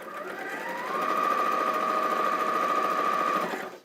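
A Janome 560 sewing machine sewing a small quilt block at a scant quarter-inch seam: one continuous mechanical whir that rises slightly as it speeds up, holds steady for a few seconds, then stops, close and with no talking.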